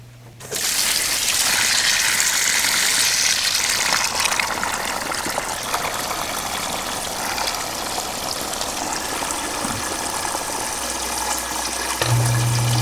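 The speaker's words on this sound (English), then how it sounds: "let's put some water back in there" Water gushes steadily and loudly into a sump pit for about twelve seconds, a continuous pouring rush heard up close with no talking.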